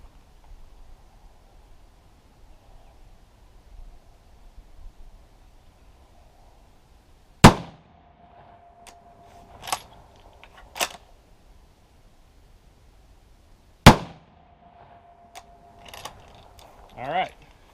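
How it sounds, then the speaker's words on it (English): A 6.5 Creedmoor bolt-action rifle firing 140 grain Hornady American Whitetail ammunition lets off two sharp, loud shots several seconds apart, each followed by bolt cycling and metallic handling clicks. "We're going to take a couple of shots and kind of get an idea for how the recoil feels."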